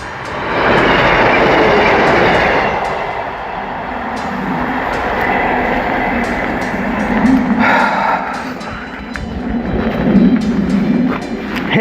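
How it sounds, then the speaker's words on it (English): Train passing along a railway on a countryside walk, a loud rushing rumble with rattling wheels and clatter that swells, eases, then surges again as the cars roll by nearby. "There's a train coming."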